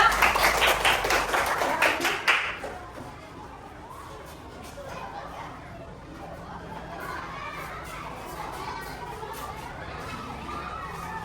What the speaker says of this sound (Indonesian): Ayo kita berikan tepuk tangan untuk kelompok 3.